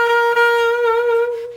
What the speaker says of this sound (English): If I press down on the octave key with my thumb